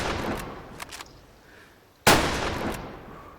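Rifle shots from new weapons ring out at a video game firing range: a few quieter cracks early on, then one loud, sharp report that trails off into a long echoing decay, with no talking.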